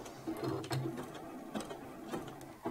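A sewing machine runs short zigzag bursts through skirt fabric, stopping and starting as it backstitches, with a steady mechanical rattle at moderate distance and no talk.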